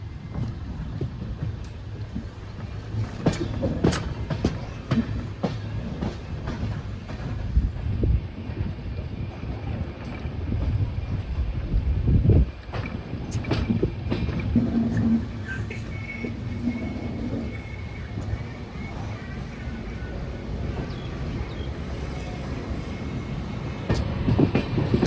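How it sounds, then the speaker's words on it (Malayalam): Island Express train rolling slowly on a curve into Nagercoil Junction station, heard from on board: a continuous low rumble with irregular clanks, squeals and wheel knocks, loud and close. "നാഗർകോയിൽ ജംഗ്ഷൻ റെയിൽവേ സ്റ്റേഷനിലേക്ക് നമ്മളങ്ങനെ പതുക്കെ പതുക്കെ കയറിക്കൊണ്ടിരിക്കുകയാണ്."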